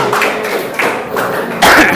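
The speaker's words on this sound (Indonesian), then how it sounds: "tepuk tangan untuk kita semua" A classroom of students applauds together, with loud, close, uneven clapping that swells in short bursts over about two seconds.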